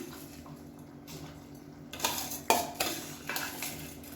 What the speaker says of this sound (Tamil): இப்போ நம்ம அரிசியை சேர்த்துக்கலாம்.